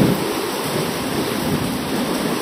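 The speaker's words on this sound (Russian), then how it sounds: "Ветер." Strong wind and rain outdoors make a dense, continuous roar of gusts and pouring water that stays loud and steady throughout, with no voices.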